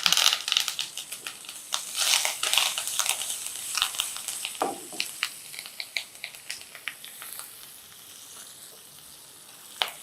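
Chopped green chilies crackle in hot oil tempering with a pinch of asafoetida, an intense close sizzle with rapid sputtering pops that gradually thin out and quieten toward the end.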